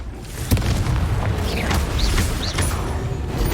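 A Confringo fire spell bursts in Hogwarts Legacy on PS5, a deep rumbling boom with a sharp hit, swirling whooshing tones and a low roar that carries on afterward.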